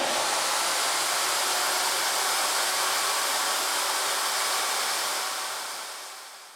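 A Ridgid vacuum runs steadily during a decibel test, a loud, constant broadband roar with no talk, holding level for about five seconds before trailing off at the end.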